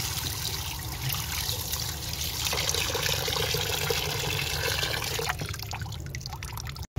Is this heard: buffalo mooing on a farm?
no